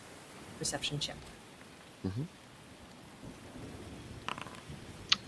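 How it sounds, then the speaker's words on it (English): Rain and waves wash through a coastal tabletop-campaign scene as a steady low hiss, with a couple of brief rumbling thunder-like swells. A voice speaks briefly over the ambience. "It's the sound of the waves and the rain."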